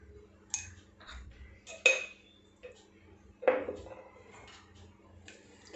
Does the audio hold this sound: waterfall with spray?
no